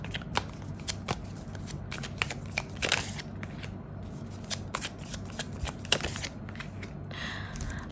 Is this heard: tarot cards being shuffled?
yes